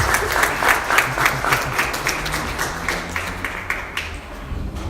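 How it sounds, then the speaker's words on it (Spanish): A church congregation applauds during a Spanish-language sermon on the resurrection, crisp clapping from many people that holds steady, then thins slightly toward the end, with some low background murmur. "Por favor, dale un aplauso al Rey de Reyes y Señor de Señores."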